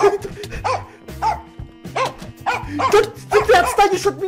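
Dog barking in a Minecraft game, short yappy barks recurring under a man's loud, agitated talking throughout.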